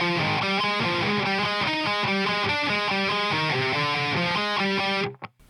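A heavily distorted electric guitar plays the next section of a riff in a dense run of quick notes. It is loud and unaccompanied and cuts off abruptly near the end.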